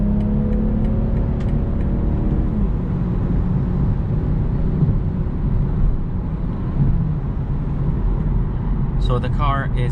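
A 2021 BMW M440i convertible cruises in Sport Plus mode, its engine a steady low drone under road and wind noise, with a person talking over it throughout.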